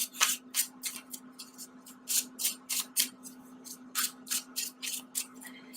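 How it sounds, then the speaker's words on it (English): Tarot cards are shuffled up close in a quick run of soft, rhythmic swishing bursts, about a dozen in under six seconds, over a faint steady hum. "I'm going to do a really quick additional shuffle"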